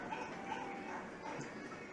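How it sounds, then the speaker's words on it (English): Dogs barking and yipping out a window in a residential neighborhood, a faint, continuous muffled commotion under steady background noise. "dogs losing their mind out the window there"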